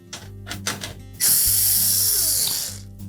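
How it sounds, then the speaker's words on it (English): Quarter-inch hex head screws are backed out of the rear access panel of a GE electric range with a power driver, giving a few short clicks and then a sustained close whirring buzz that winds down. "We'll simply remove the screws that secure the access panel in place."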